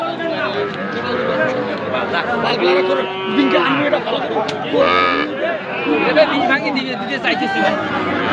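Cattle moo repeatedly amid a busy crowd at a livestock market, with people talking and chattering loudly nearby over the animals' low calls.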